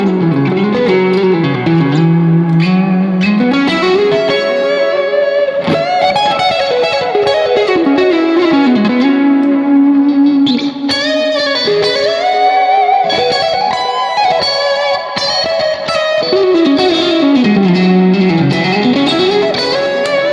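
A distorted electric guitar through a Neural DSP Cory Wong amp-modeler plugin plays melodic lead lines with sustained, bending notes and heavy amp-style saturation, loud and continuous with no talking.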